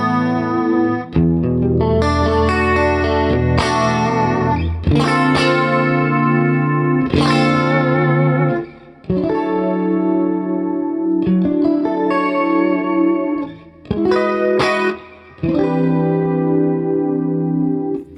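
Clean 1980s-style electric guitar through a Quad Cortex preset with a DC2W dimension chorus added at the end of the chain, playing sustained ringing chords and arpeggios with a subtle shimmering widening, loud and continuous with brief gaps between phrases.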